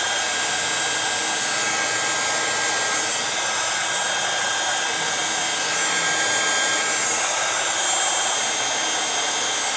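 A heat tool blows a steady, loud, continuous whir while drying ink on the background of a handmade textured 7x7 card, running unbroken throughout with no talk.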